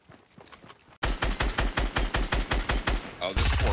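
A gun in Fortnite fires in a rapid burst of about a dozen loud, evenly spaced shots after a short quiet stretch, then gives way to a dense clatter at the end.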